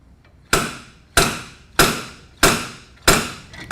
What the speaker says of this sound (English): I've hooked up a hub puller to this particular hub unit, and we're going to use this to remove the hub assembly.